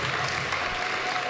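Applause from an audience at a university media society's 24-hour broadcast, a dense steady round of clapping held at an even level throughout the short burst.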